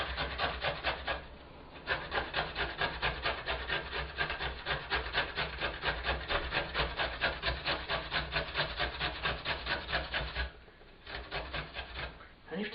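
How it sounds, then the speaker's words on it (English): Fresh ginger is grated for marrow chutney in quick, steady rasping strokes, close and continuous, broken by two short pauses and with no talking. "And all I'm going to do now is just grate it."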